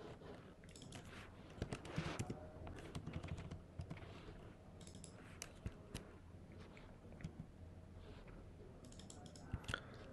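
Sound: typing on a computer keyboard

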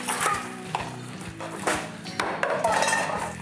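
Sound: cooking utensils clinking

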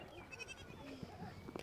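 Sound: goats on a farm

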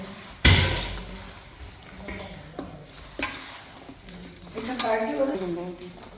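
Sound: stirring raw mango pickle with oil

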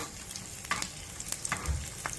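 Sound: tempering (tadka) sizzling in oil for dal

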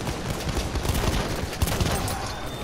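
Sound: gunfire in the video game Battlefield 1

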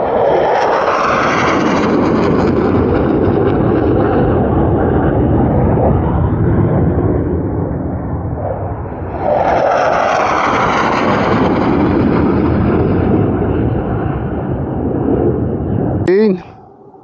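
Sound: Eurofighter Typhoon jet flying overhead

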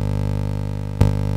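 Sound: original synthesizer signal going into Synton Fenix delay

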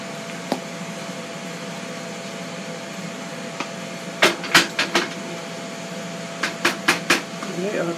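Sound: air fryer running

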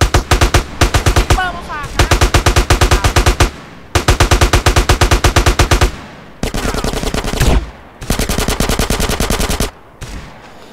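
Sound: gunfire in the video game Battlefield

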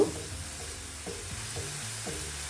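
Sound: stirring and frying spices for green egg curry

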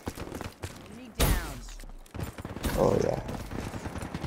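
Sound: gunshots from Call of Duty Black Ops 3 video game

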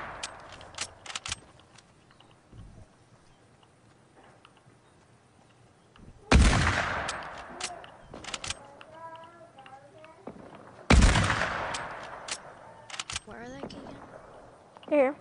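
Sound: gunshots nearby in a video game

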